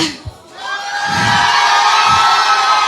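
An audience claps and cheers loudly in a clapping contest on a variety show, a sustained burst of applause with shouts after a brief lull.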